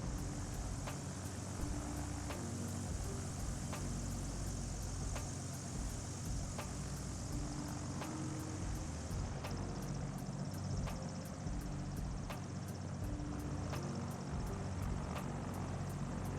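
A GeeBee R3 racing plane's propeller engine drones steadily in a VR flight game, a continuous loud rotor hum with a fast regular beat running throughout without pause.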